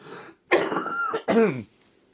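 Someone clears their throat and then coughs twice in rough, raspy bursts, close up with short pauses between.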